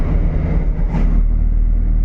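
A small old car engine, an early FSO Syrena or a late Fiat 126p, rumbles steadily at close range, a low throbbing resonant drone with a brief surge partway through.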